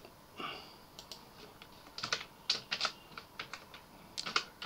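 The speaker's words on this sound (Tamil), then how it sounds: "இந்த சி ப்ளஸ் ப்ளஸ் ப்ரோக்ராமை நாம் டைப் பண்ணுறோம்." A C++ program is typed into Notepad on a computer keyboard, producing sparse, uneven clicks and short flurries of keystrokes that are fairly faint but clear.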